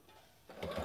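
A sewing machine stitches fabric for handmade catnip toys, starting quiet and then speeding into a louder mechanical whir partway through the short burst, close up with no speech.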